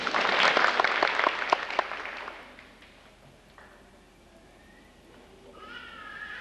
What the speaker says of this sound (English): If y'all want to do a quick applause, we can do that.